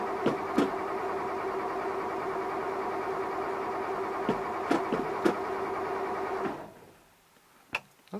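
An old engine with newly fitted points cranks in one steady, droning run for about six seconds, then cuts off abruptly into near quiet. A couple of faint clicks follow.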